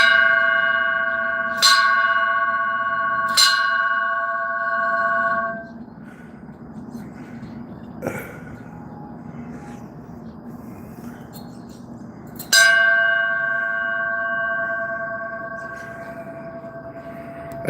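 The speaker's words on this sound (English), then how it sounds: "I put this bell up here the other day. If I ever hear the dogs barking around the neighborhood," A bell hung up outdoors is struck twice in quick succession, then rings again later with a long sustained tone that slowly fades, over a quiet outdoor background.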